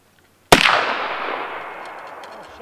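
A single sharp muzzle-loading rifle shot at an outdoor backwoods rendezvous competition in Idaho, a loud crack after brief quiet followed by a long rolling echo that fades over two seconds.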